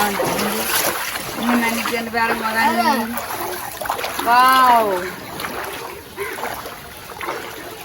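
Water splashes and sloshes on a rain-flooded road in Jaffna beneath people talking nearby, with voices rising over the churning water.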